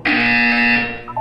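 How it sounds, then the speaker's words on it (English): A loud electronic buzzer from the video game Portal 2 blares in one sustained, harsh tone for about a second, then cuts off into a brief quieter electronic tail. "You will hear a buzzer. When you hear the buzzer, look down at the floor."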